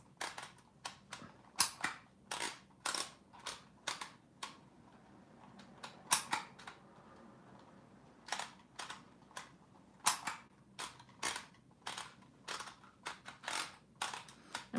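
Keys clack on a typewriter-like keyboard as text for artist trading cards is typed, in quick sharp bursts with brief pauses, close and fairly quiet, with no talking.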